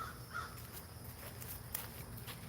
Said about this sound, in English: Here the crows like what I'm doing.